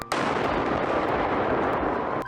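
Controlled detonation of a 2,000-pound WWII German bomb found near a city center: one massive blast bursts in and roars on as a loud, dense, sustained rumble.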